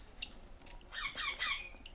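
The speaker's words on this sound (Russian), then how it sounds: "Тут у нас маленькие кареллы и маленькие ожереловые попугаи." Young cockatiels and ring-necked parakeets squawking faintly indoors, a short chirp followed by a brief cluster of high chattering calls over quiet background hiss.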